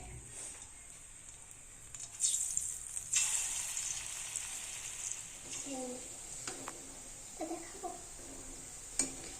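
Palm fruit fritter batter meets hot oil in a pan, giving a faint, continuous frying hiss with scattered soft pops and a few clinks, while quiet talk carries on in the background.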